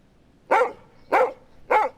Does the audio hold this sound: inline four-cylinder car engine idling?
no